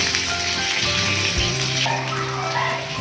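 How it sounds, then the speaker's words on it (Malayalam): Shallots and curry leaves sautéing in a pan, a continuous hissing sizzle with a watery texture and low clatter near the middle, steady and fairly loud throughout. "അതോടൊപ്പം ഒരു 2 കറിവേപ്പിലയും കൂടെ ചേർത്തിട്ട് നമുക്ക് നന്നായിട്ടൊന്ന് വഴറ്റിയെടുക്കാം"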